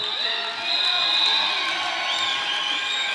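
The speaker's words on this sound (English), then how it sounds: "Receiving a lot of praise from the crowd" A roller derby crowd cheers and whoops for the jammers during a Netherlands vs Argentina track match, a steady, loud wash of many voices with a brief swell, and no clear speech on top.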